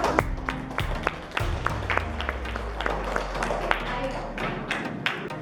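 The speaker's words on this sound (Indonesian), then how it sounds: "Tepuk tangan untuk semuanya" Scattered hand claps from a class of students in a school lesson, sparse and uneven taps rather than full applause, over a low steady hum with some voices murmuring.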